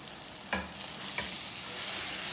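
Okra (bhindi) and onions fry in a pan with a steady, bright sizzle and a couple of soft stirring scrapes near the start, close and continuous with no talking.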